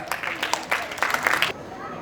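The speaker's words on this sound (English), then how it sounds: "Please give a round of applause, audience." A burst of audience applause, a crowd clapping together for about a second and a half before it cuts off abruptly.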